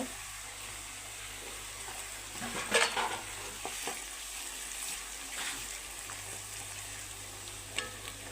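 Broad beans frying over a low flame with ginger-garlic masala, a spoon stirring and scraping through them in a steady sizzle, with a couple of louder clanks against the pan.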